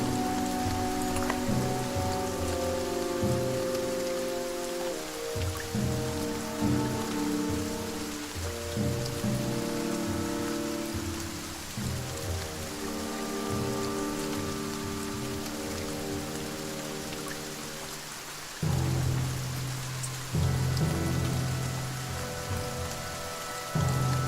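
Steady rain falls throughout The Banner Saga 2 as a caravan moves on, a continuous wash of drops under a low, rolling musical bed, with a brief dip and swell partway through.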